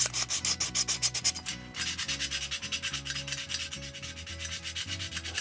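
A metal humbucker guitar pickup cover being scuffed with abrasive along its edges, quick repeated rubbing strokes in a steady back-and-forth rhythm, close and clear, with no speech.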